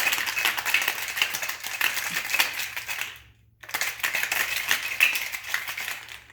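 Cocktail shaker holding a drink mixed with pomegranate, shaken hard in a steady rapid rattle for about three seconds, a brief pause, then a second burst of shaking, close and loud with no talking.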